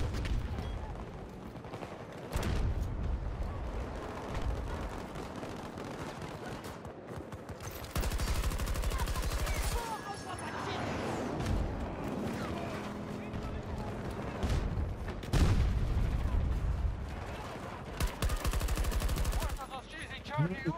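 Rapid automatic gunfire and bursts of shots from the shooter game Battlefield 2042 fill the scene, loud and near in repeated bursts with explosions and mechanical noise, while someone talks over the action.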